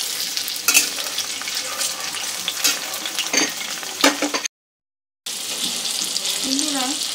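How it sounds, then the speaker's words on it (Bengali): Onion, garlic and chopped tomato frying in a pan for chicken jalfrezi, a close crackling sizzle with a few stirring scrapes, briefly cut to silence partway. "পেঁয়াজটা একটু সফট হয়ে আসা পর্যন্ত ভেজে নেব।"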